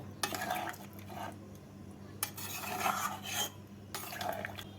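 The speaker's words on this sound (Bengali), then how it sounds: "উষ্ণ গরম জল জলটাকে ভালো করে আলুর সাথে মিশিয়ে নেব" A spoon stirs potatoes with warm water in a pot, giving several scraping strokes and soft clinks against the metal, with quiet liquid movement in between.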